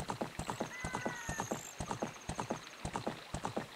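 Video game horse hooves in Zelda: Ocarina of Time clip-clop in a quick, even galloping rhythm, loud and close, with a brief whinny-like tone near the start.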